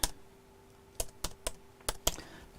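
Someone types on a computer keyboard: a handful of sharp, close key clicks come in small irregular bursts over a faint steady hum, with no talking.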